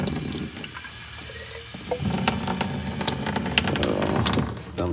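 Tap water running into an ethanol content test tube, a steady hiss that brightens as the tube fills, close and continuous with no talking over it.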